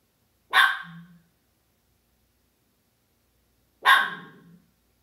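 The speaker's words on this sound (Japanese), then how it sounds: "何かに吠えてる。" A dog barks twice, close and clear, with a few quiet seconds between the two sharp barks and a faint low growl trailing the first.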